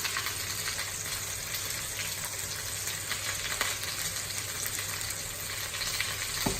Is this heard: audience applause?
no